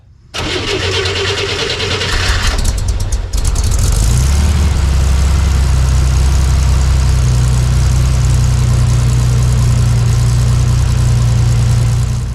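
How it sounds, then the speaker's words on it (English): A Chevrolet Corvair engine fitted with custom fuel injection cranks, catches and settles into a loud, steady idle close by, its low rumble continuing alone without any talking. "I think it's time we go take it for its first fuel-injected test drive"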